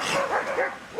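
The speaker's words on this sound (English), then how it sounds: "That's a seal barking." A sea lion on an Australian shore gives a quick run of short, dog-like barks, close and fairly loud, in one brief burst.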